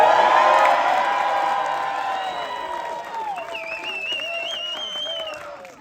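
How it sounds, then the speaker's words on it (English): A crowd at a Renaissance faire mud show cheers, whoops and applauds loudly and steadily from the start, the roar easing a little over several seconds, with shouting children and a few higher voices breaking through. "And then the crowd goes wild"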